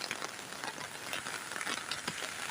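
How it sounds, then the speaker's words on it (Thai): Rain falls steadily outdoors beside the Saiburi River, a dense broadband hiss with scattered patters and drips, fairly loud and constant, with no voices. "ฝนก็ยังตกอยู่นะครับ"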